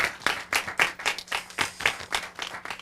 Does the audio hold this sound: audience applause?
yes